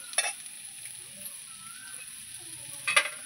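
Marinated chicken fries in a pan with a continuous close sizzle, and two short bursts of stirring clatter come near the start and the end.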